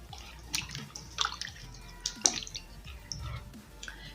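Carrots are washed in water, with faint splashes, drips and soft rubbing sounds that come in irregular bursts and stay close and quiet.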